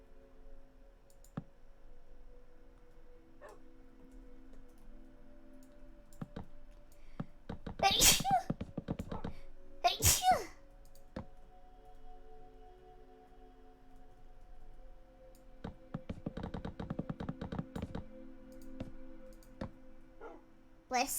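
Two sharp, bursty sneezes about two seconds apart, loud and close, amid quiet clicking and light background noise during a Minecraft session.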